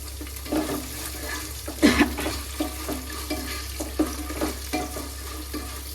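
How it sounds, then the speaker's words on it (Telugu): Onion frying in a pan with cashews, ginger pieces and green chilies for pesarattu upma: a soft continuous sizzle under a low hum, broken by repeated scraping stirs, one louder clatter early on. "ఇప్పుడు ఉల్లిపాయ వేస్తున్నానండి"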